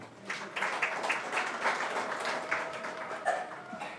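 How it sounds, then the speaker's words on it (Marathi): A church congregation claps together during a Sunday service, a dense patter of many hands rising after a short start and holding steady at a moderate level. "आपण सर्वांसाठी टाळ्या वाजवूयात."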